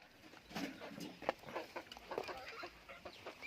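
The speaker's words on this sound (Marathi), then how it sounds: "पिल्लं आहेत ती सगळी गावठी आहेत आणि जी मी अगोदर आणलेली ती पण प्युअर गावठी कोंबडी आहेत" Native village chicks and chickens on a poultry farm cluck and cheep in a busy, irregular flurry of short calls at moderate distance, with no one talking.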